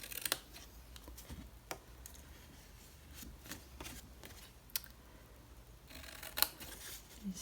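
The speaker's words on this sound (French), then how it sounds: "Je vais couper ici." Scissors snip through paper in short, crisp cuts spaced irregularly over several seconds, made while crafting a scrapbooking mini suitcase; close and fairly quiet, with no talking.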